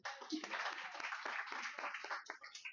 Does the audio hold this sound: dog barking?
no